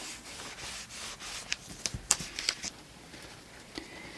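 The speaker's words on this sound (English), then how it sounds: "I'm just going to grab my towel here now and rub this into my layers" Cloth towel rubbing paint into mixed media art layers, a soft, faint scrubbing with a few light scratchy strokes, close and quiet.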